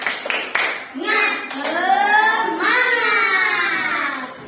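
Children in an Indonesian classroom clap a short rhythmic cheer pattern, then shout together in unison; a few sharp claps at the start give way to loud, close group chanting.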